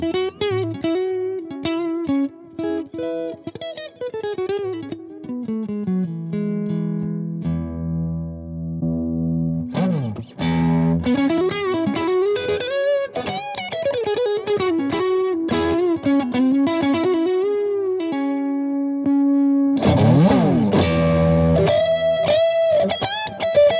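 Electric guitar played through an Orange Rockerverb MK3 amp with a Klon pedal and the guitar's boost engaged, loud and sustained with rich overdriven harmonics, chords and single notes ringing out alone with no talk.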